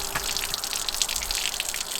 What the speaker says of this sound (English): I'm gonna drain out all the antifreeze so that there's no antifreeze actually in the lines